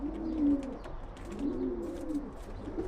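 Pigeons in a loft cooing softly and repeatedly, low rolling coos close by with faint background chirps, no talk.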